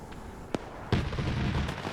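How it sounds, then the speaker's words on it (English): Airstrike explosions in a WW2 combat game: a sharp distant blast, then a heavier boom followed by rumbling, with a faint crack at the end. "An airstrike comes in, they spot the tail end of this force and manage to kill the rear guard."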